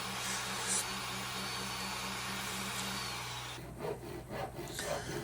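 Wood being trimmed for a DIY outfeed table in a small workshop, a steady loud power-tool roar that runs for several seconds, then stops, leaving short scraping and rubbing sounds.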